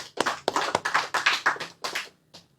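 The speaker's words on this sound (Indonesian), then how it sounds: "Tepuk tangan untuk mereka." An audience bursts into applause at a religious talk, giving a short run of sharp, close, rhythmic claps that fade out after about two seconds.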